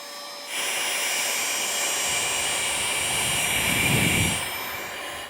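Vacuum cleaner fitted with a fuzzy brush nozzle cleaning lint from a sewing machine: a steady, loud whooshing whine switching on after a moment and running continuously, with a slight rumble as the nozzle works over the parts, no talking.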